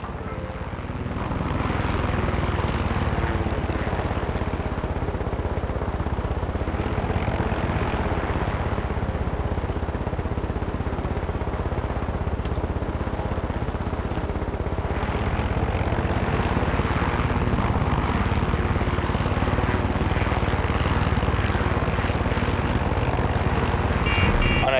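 Aircraft engine droning in Far Cry 6, a continuous loud propeller-like roar that holds steady for the whole stretch with little variation.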